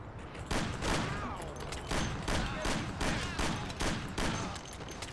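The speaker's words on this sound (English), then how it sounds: "The police is shooting me." Police gunfire in the Mafia: The Commission mod game, dense bursts of shots repeating at a steady rhythm, loud and continuous throughout, with a faint voice beneath.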